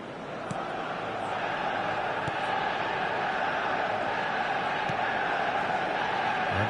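A steady stadium crowd roar from an eFootball soccer video game fills the background, a continuous broad wash of cheering at moderate level with a few faint sharp ticks, and no clear talking over it.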